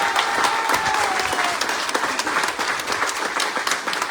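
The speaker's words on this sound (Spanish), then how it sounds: "Que se redoble el aplauso para la maestra Roxana" An audience at a book presentation applauds teacher Roxana, dense steady clapping filling the room for the full four seconds at an even, moderately loud level.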